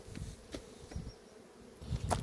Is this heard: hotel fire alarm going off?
no